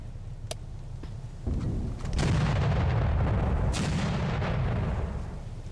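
Naval gunfire in the World War II naval combat video game Victory At Sea Atlantic: a few sharp distant shots followed by a heavy booming salvo and a long rumbling roar.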